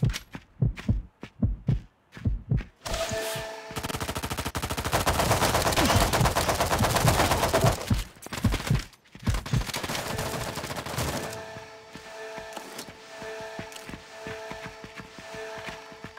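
Gunfire in the mobile game Outfire during team deathmatch, loud single shots followed by long sustained automatic bursts, then scattered shots fading under softer background game sounds.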